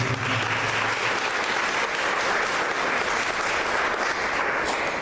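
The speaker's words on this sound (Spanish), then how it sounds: "Démosle un aplauso a Él esta mañana por eso." A church congregation applauds during a Sunday morning service, a steady, continuous wash of many hands clapping with no break across the whole stretch.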